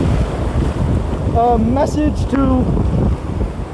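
Ocean waves and strong wind at sea make a loud, constant rush and buffeting roar. A voice briefly sounds partway through.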